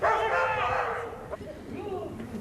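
A German Shepherd police dog yips and whimpers close by in a few short bursts, over steady background noise.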